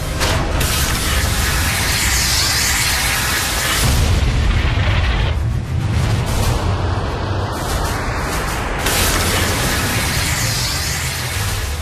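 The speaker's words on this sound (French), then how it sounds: "Olds tire son missile." A Phantom fighter jet fires a missile in a wartime aerial engagement. Loud, continuous roaring rumble and booming blast fill the whole stretch, with a brief dip in the middle before the heavy noise surges back.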